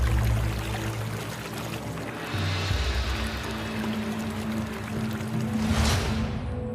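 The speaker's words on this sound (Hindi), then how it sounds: "बिहार में दूर तक बहती गंगा नदी" The Ganges river in Bihar flows past sandy banks with a steady, broad rush of moving water that swells and fades continuously, with no voices over it.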